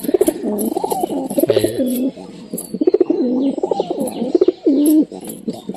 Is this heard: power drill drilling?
no